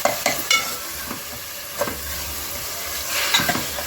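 Tomatoes for a traditional mutton curry cook in a pan over medium flame, with soft sizzling and several scraping stirs of a spoon, the stirring strokes coming in short irregular bursts.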